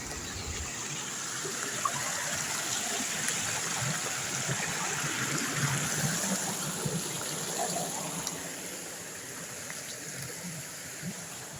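Water flows steadily through a stream among rugged rocks, a continuous broad rushing wash heard close and even throughout, without pauses.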